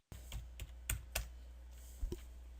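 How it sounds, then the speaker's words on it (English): Quick keystrokes tapped on a computer keyboard, a handful of crisp clicks in short irregular bursts, fairly quiet and close with no voices over them. "So we're going to type in large yellow"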